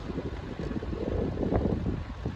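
Strong wind roars and buffets a microphone as a cyclist rides along a road, a continuous rough rumbling gust noise with no voices.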